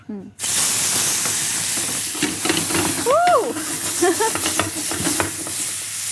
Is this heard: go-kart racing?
no